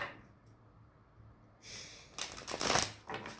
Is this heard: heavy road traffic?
no